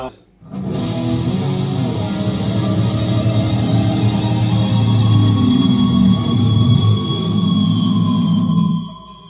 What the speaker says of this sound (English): So all the guitars together, kind of mixed a little bit.